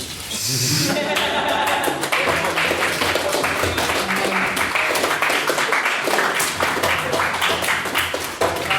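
Applause fills a debating chamber, a dense sustained wave of many hands clapping, loud and steady throughout with a few chuckles and murmurs mixed in.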